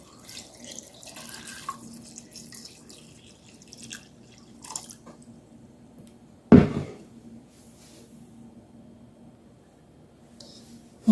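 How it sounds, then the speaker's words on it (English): Tap water runs into a pot of potatoes with a soft, steady trickle and scattered drips, broken by one sharp clunk partway through. "I'm going to go ahead and fill these up with water until it gets just above the potato."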